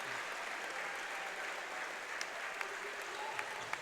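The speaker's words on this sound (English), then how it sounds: "give the seniors a chance to get their round of applause" A basketball crowd in a high school gym applauds the seniors with a steady, moderately distant round of clapping, a few sharper claps popping out near the end.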